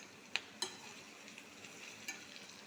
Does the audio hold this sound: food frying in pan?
yes